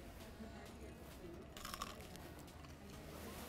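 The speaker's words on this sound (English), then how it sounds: "These chicken tenders are extra, extra crunchy." Crisp crunching bites into extra-crunchy fried chicken tenders from Ruby Tuesday, a few close, sharp crackles in a short burst.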